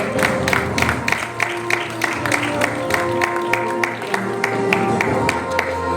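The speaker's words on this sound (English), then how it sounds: "Can we have a special round of applause for the kids?" An audience at a Punjabi awards anniversary celebration claps for children on stage, scattered rhythmic claps over a loud hall with steady low music tones and some crowd noise.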